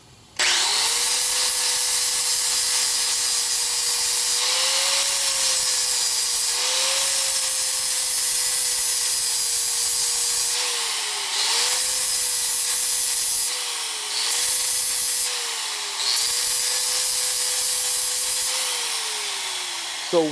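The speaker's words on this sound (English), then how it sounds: "This is a 40 grit flop disc, so it'll give a smoother finish" An angle grinder fitted with a 40 grit flap disc grinds on metal parts during a 1942 Harley WLA springer fork repair, a loud, near, high whine that dips in pitch under load in repeated passes, alone without talk.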